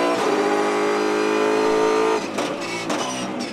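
A race car's engine screams loud and sustained down a track straight, then abruptly drops in pitch and roughens as the driver brakes and turns into a corner.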